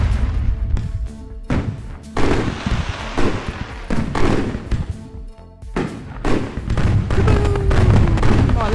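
Fireworks go off one after another in the Fireworks Simulator game, a run of loud booms and crackling bursts that follow close together and sometimes overlap, with no pause in the noise.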